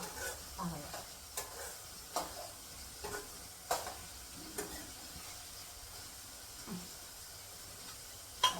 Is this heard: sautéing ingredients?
yes